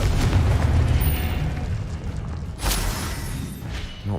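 A Confringo spell blast in a Hogwarts wizard video game lands as a heavy, rumbling explosion at the start that fades, then a second burst follows partway through, loud and close.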